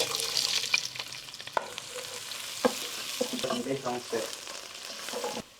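A cup of onion goes into hot oil and fries with a continuous close sizzle, punctuated by sharp utensil knocks and stirring clatters, no voices over it.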